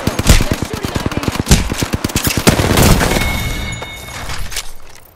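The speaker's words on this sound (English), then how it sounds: "They're shooting at me." Rapid automatic gunfire rattles loudly in Apex Legends, a fast steady string of close shots that breaks into a second burst before fading into game ambience.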